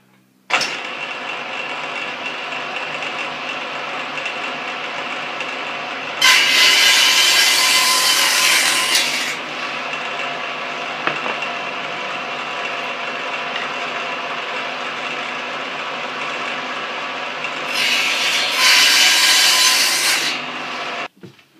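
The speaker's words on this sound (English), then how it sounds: "Next we're going to cut our block to our 5-inch size." A wooden block being cut to a 5-inch length with a saw, heard as a loud, continuous rasping drone close by, with two harsher, louder bursts of cutting partway through, and no talking.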